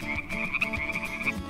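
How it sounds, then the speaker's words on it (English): Many fully grown frogs croak together at a lake, a steady close chorus of overlapping calls running without a break. "Look at all of these frogs"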